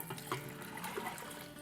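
Water pours steadily into lentils for Hyderabadi dal, a soft continuous running and splashing close by, fairly quiet, with no talking over it.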